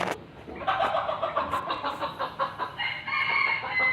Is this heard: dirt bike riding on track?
no